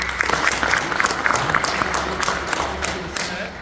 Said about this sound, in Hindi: इसके लिए भी एक बड़ी ताली हो जानी चाहिए